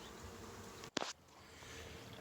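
A low, steady buzz of Russian honey bees at a beehive hums throughout, broken by a brief sharp rustle near the middle before the drone carries on.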